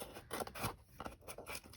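Scissors snip and scrape steadily through fabric trimmed from a handmade Christmas journal cover, close and fairly quiet, in a quick series of cuts.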